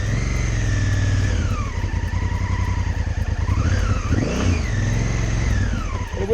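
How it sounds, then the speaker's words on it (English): A 2017 Honda Africa Twin motorcycle engine revs hard and steadily as the rear wheel spins on deep rocks off-road, the pitch rising and falling, then clearing. "Wheel spin and we're out,"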